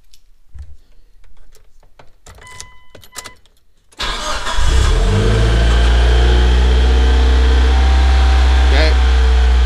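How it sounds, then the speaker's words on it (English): A Mitsubishi Evolution 6 engine cranks and fires up after a few seconds of quiet clicks and handling noise, then settles into a loud, steady idle with a slight rising rev, close by, with no talk. "we're gonna fire the car up again."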